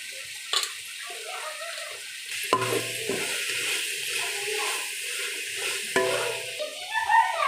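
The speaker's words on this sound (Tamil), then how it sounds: "இஞ்சி பூண்டு ஸ்மெல் போகிற வரைக்கும் வதக்கிட்டோம்" Ginger garlic paste and tomatoes sautéing in a pan, with a wet, bubbling sizzle under a few clanks and scrapes as the mix is stirred, close by and without talk.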